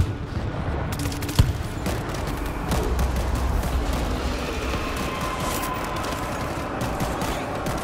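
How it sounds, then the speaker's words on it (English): A grenade blast and bursts of rapid gunfire in the World War Z video game, New York level. One sharp, loud explosion comes early, over a steady, dense barrage of shooting and battle noise. "Throwing a grenade!"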